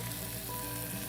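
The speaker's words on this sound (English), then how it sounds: "You can hear it sizzling." Chicken sizzles and crackles in hot oil in a skillet, a brief steady frying hiss, close and fairly quiet.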